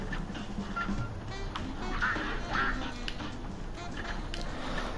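Quacking of a duck in the Cuphead video game, a few short game-sound quacks over busy background game music and effects, with someone talking over it.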